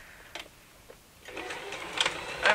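Domestic sewing machine stitching a seam with stitch length 2.5 and zero width: faint clicks, then a soft whirring run of the motor that grows louder toward the end, up close.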